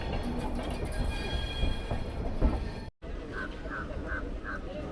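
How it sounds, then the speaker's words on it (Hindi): A freight train rolls past on the line between Guwahati and Jammu Tawi, making a steady broadband rumble with clattering wheels. A short dropout occurs partway, followed by faint repeated squeaky chirps over the continuing rail noise. "बीच में आ जाएगी एक माल ट्रेन, देखिए"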